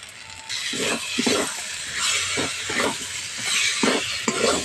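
Fried potatoes sautéed with spices in a pan give a steady close hiss and sizzle, broken by repeated scraping and stirring strokes of a spatula against the pan.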